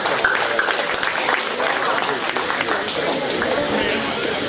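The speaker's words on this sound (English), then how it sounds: "Give yourself a big round of applause." A dense, steady round of crowd applause at a county fair 4-H swine show ring, continuous clapping with a murmur of voices mixed in.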